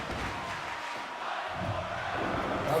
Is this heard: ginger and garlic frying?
no